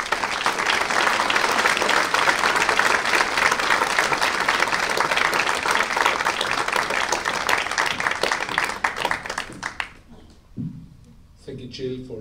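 Sustained loud applause fills a theater at a memorial service in Keflavík, Iceland, dense steady clapping for about ten seconds before breaking off, followed by a few faint voices.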